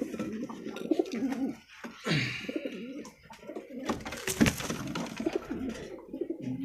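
Fancy pigeons at a breeding farm in Uluberia, near Kolkata, coo continuously and close by, with overlapping throaty murmurs and occasional flutters from many birds.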